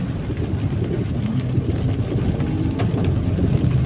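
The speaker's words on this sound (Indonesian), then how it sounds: "di waktu hujan." Steady rain on a street in the morning, a dense, even hiss of falling water with a low rumbling undertone, constant and fairly loud throughout with no voices.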